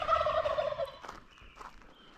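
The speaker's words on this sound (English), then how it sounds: "Those are wild turkeys, by the way." Wild turkeys gobbling in springtime: one loud, rolling gobble opens, followed by a few fainter calls from the flock, with no talking.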